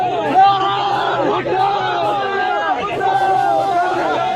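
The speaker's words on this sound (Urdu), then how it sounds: "پیپلز پارٹی کے جیالوں کی نعرے بازی اور ہلڑ بازی کے باعث" Pakistan Peoples Party workers chant slogans and raise a loud, rowdy commotion, a dense crowd of shouting voices rising and falling together without a break.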